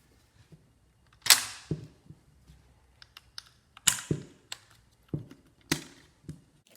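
Trim clips on a Tesla Model 3 yoke assembly pop loose in a series of sharp, close snaps, two louder cracks standing out among smaller clicks, with no talking.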